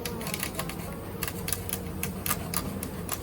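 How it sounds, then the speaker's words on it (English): Quick, scattered snipping clicks as a mesh bag on a backyard beehive is cut open, faint against a steady low outdoor hum. "Try to cut the mesh and see if I can get them out a little easier"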